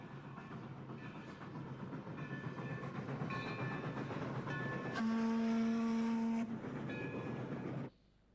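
Steam locomotive on a South American main line near Temuco, Chile, rumbling steadily with rhythmic chuffing, then a loud sustained whistle blast before the sound cuts off abruptly.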